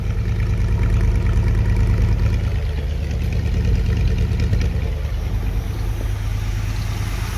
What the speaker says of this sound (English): Could maybe come down on the idle just a spoke, but it's right about 950.